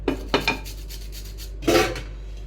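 Lemon being zested on a metal grater for a lemon pepper paneer dish, several short scraping rasps near the start and a longer scrape later, close and fairly loud with no talking.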